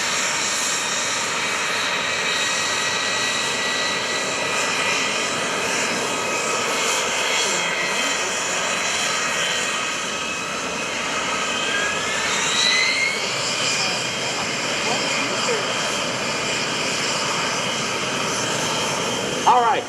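A Boeing KC-135R Stratotanker flying a demonstration at the 2011 Boston Portsmouth Airshow, a loud sustained jet engine roar with whining tones that shift as it passes, steady for the whole stretch, with an announcer's voice over the top.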